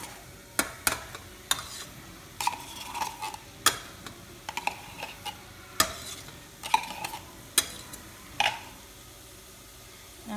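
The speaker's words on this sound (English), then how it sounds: "I'm going to mix that around for a few minutes." Tomato paste stirred into pizza sauce in a pot, with sparse scraping strokes and clicking taps of the spoon against the rim over a quiet background, close and soft.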